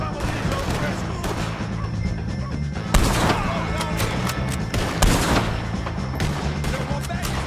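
Heavy gunfire from a shootout with O'Driscoll gang members in Red Dead Redemption 2, with sharp rifle and pistol cracks and booming blasts over a continuous battle din, interspersed with shouted voices.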